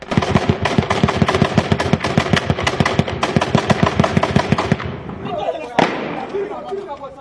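Rapid, evenly spaced automatic gunfire rattles for about five seconds during a street battle in Gao, Mali, then breaks off, followed by a single loud shot and echoing noise.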